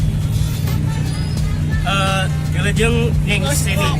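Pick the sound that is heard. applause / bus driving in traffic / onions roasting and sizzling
bus driving in traffic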